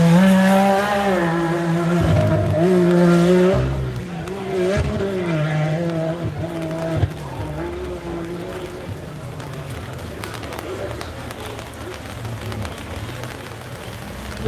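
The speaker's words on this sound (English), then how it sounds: "there are a couple of side-by-sides that have overtaken Luke early in this heat" Side-by-side off-road vehicles racing at a muddy dirt event, engines revving and droning with rising and falling pitch as they pass, loud up close and then easing into a rougher, fading rumble.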